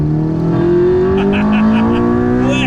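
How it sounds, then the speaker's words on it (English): A Honda Civic engine in a classic Mini revs hard and close into VTEC, its droning pitch climbing steadily upward throughout. "We've got a little bit of VTEC, of course, because it's a Honda Civic engine"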